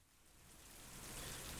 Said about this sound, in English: I've always hated the rain.